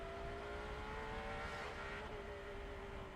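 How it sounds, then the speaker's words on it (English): A Cadillac race car engine at the IMSA Monterey SportsCar Championship drones steadily in the background, a faint sustained whine heard from a distance with no other sound over it. "say that was a Cadillac engine that we can hear behind us"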